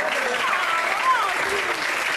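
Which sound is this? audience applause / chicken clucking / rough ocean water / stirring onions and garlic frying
audience applause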